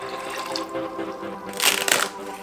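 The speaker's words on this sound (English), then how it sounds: "We'll start off by adding 3/4 cup of raw cashews to a blender along with 1 cup of water." A cup of water is poured into a blender holding raw cashews, giving a brief close splashing burst that follows a softer trickle.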